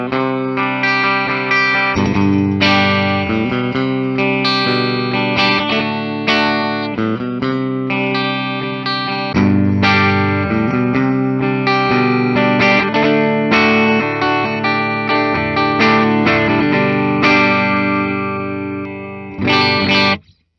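A 2014 Gibson Custom Shop SG Standard '61 electric guitar on its middle pickup position plays through effects, giving loud, chimey chords and melodic lines with chorus and distortion, sustained with no talk.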